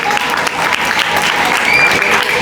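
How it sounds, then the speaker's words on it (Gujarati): An audience at a school prize-giving ceremony for preschool (Balvatika) children applauds steadily, a dense, sustained wash of clapping that fills the whole stretch at close, loud level. "આવે એકવાર તાળીઓથી વધાવીએ. તાળીઓ અટકવી નહીં જોઈએ."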